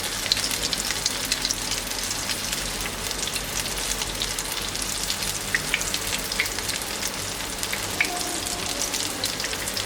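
Potatoes shallow-fry in a little oil over low heat, giving a steady dense crackling sizzle with scattered pops that continues evenly throughout, with no talk.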